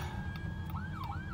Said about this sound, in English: Got to pull over because there's another ambulance.